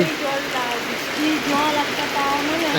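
Steady rain falling outside a home in a rural setting, a continuous broadband hiss of drops on surfaces, with people talking over it.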